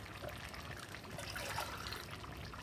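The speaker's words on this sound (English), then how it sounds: "I've got a little bit of water in this kettle. I'm going to add, rinse the tins out." Water from a kettle is poured into empty tins to rinse them, giving a steady, soft trickling and splashing that runs continuously and fairly quietly for the whole stretch.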